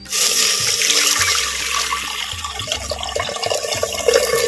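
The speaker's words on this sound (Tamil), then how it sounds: "அரை லிட்டர் பச்சை தண்ணி வந்து சேர்த்துக்கிறேன்" Half a litre of plain water poured into a clay pot for boiling banana flower, a steady splashing, gurgling stream heard up close and alone throughout.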